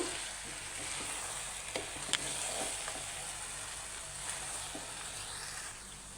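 Rice frying together with beef in a pot while cooking beef biryani gives a steady close sizzle, broken by a few soft stirring scrapes and small crackles, with no voices.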